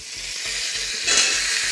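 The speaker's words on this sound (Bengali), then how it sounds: "আলুটা একটু নেড়ে নিলাম" Potatoes with chili frying in a pan sizzle steadily while being stirred, a continuous close hiss with a brief scraping swell near the end.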